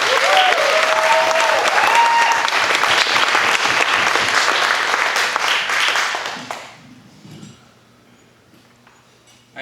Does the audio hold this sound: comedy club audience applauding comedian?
yes